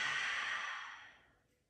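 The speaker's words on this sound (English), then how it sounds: "Open mouth, exhale." A deep exhale through an open mouth during a mat Pilates session, one long, soft, breathy rush that fades away over under two seconds, close and alone.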